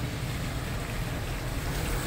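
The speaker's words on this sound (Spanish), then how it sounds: "Mucha, pero mucha agua lleva el río Yaque." Yaque del Norte river running high after Hurricane Irma, seen from a bridge in Mao, Dominican Republic: a steady, loud rushing roar of fast water with wind noise and no speech.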